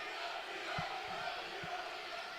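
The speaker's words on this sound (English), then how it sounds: "Got the crowd into that." A men's college basketball crowd cheers and roars in a gym during a UPIKE versus Shawnee State game, a steady wash of massed voices with a few low thumps underneath.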